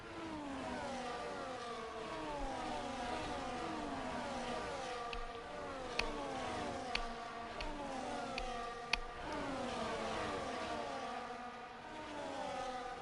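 Formula 1 race cars in a video game round at Japan, several engines whining past in overlapping sweeping pitch glides, steady and loud throughout, with a few sharp clicks and no talk.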